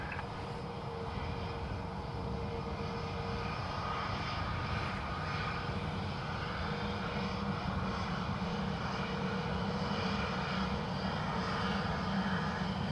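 A Scandinavian Airlines jet departs from Dublin Airport and climbs almost directly overhead, giving a steady, loud engine roar with a faint whining tone running under it for the whole stretch.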